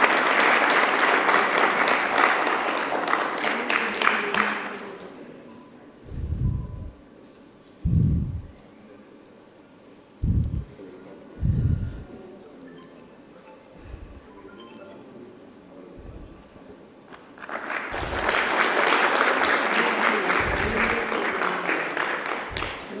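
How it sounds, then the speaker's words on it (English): Audience applause at an education impact summit, a loud sustained burst of clapping that fades into a quiet stretch with a few scattered thumps, then swells again into full, steady applause. "Please join me with a big round of applause."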